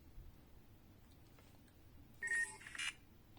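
A Vivo NEX 3 smartphone's motorized pop-up camera whirs out in a short electronic burst of tones, followed by a second brief chime a moment later, close and fairly quiet against a hushed room.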